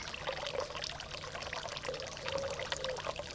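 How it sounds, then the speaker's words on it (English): Water trickles steadily in a small solar-pumped garden wildlife pond, a continuous close pouring and dribbling sound with a faint tonal ripple, alone without talk. "Solar panels are used to move the water."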